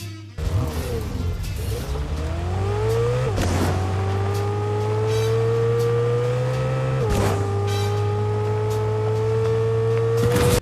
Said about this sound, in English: It kind of sounds like a Ferrari V8, but a bit lower pitched than usual.